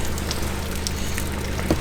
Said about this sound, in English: The rain is kind of talking me over though